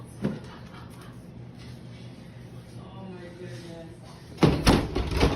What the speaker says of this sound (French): La porte de la salle de bain claque, ce qui enferme son fils.